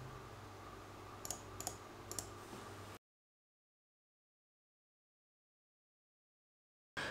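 A few quick mouse clicks while working in RDWorks V8 laser software, three or four small sharp taps over a steady hum near the start, then the sound cuts out.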